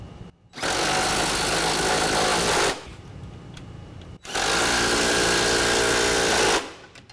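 Power tool, likely an impact wrench with a 17mm socket, tightening the pinch weld bolts while installing Ionic Voyager Plus 6-inch running boards. Two loud, sustained bursts of about two seconds each, separated by a short pause, with no talk.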